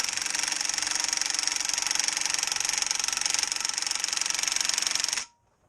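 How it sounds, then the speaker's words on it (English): An impact drill hammering at a stuck nut on a 1982 35 HP motor gives a rapid, loud, continuous rattling burst up close for about five seconds, then cuts off abruptly into silence. "This impact drill is the best."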